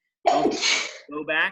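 One sharp sneeze bursts out during an online sixth-grade class, followed by a brief spoken phrase.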